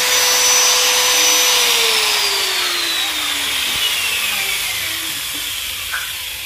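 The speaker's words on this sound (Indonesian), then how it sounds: "Dalam kondisi beban running gerinda tanpa beban ya, gerinda tanpa beban 224 watt." An angle grinder spinning with no load while powered from a 1000 W pure sine wave portable power station, a loud steady high whine that slowly drops in pitch as it winds down, alone without talk.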